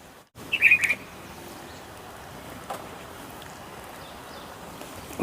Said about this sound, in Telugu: పక్షులు వచ్చాయి.